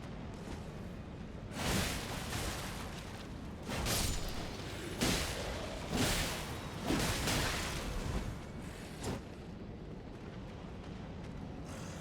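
Explosions in the video game Elden Ring, a series of broad whooshing blasts about every two seconds over a constant dense rumble, with no talk.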